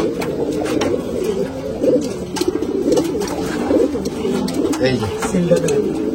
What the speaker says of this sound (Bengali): আমার খুব প্রিয় কবুতর এটা